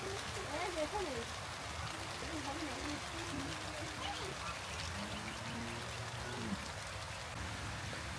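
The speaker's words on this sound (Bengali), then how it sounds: "শেষ পর্যন্ত জোরে নামলো বৃষ্টি।" Heavy rain pouring down outdoors on a farm, a dense, even roar throughout, with quacking calls from ducks or geese mixed in.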